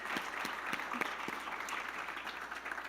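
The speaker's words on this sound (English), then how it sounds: "Can we have another round of applause for those amazing faculty and staff?" Faculty and staff at a Phi Theta Kappa induction ceremony receive a round of applause: steady, moderately quiet clapping from an audience with a few sharper individual claps standing out, continuing throughout.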